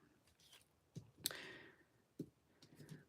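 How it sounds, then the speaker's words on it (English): Paper snips fussy-cut card stock for a Christmas fold card, giving a few soft, close snips and clicks spaced irregularly over a quiet background. "let's get our paper snips and kind of fussy cut"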